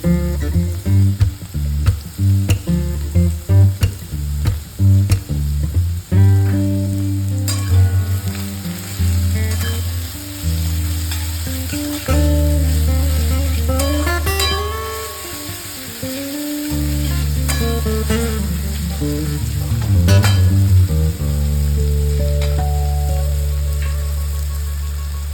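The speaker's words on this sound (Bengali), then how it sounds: "এই পেঁয়াজগুলো ভাজার সময় অল্প একটু নুন আর চিনি দিয়ে ভালো করে ভেজে নেব।" Sliced onions fry in oil with a little salt and sugar in a kadai for Kolkata-style chicken biryani, a loud, continuous sizzle with irregular crackles and stirring clatter, no talking.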